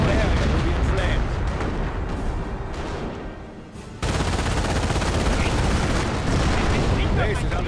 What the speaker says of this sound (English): artillery attack is on its way.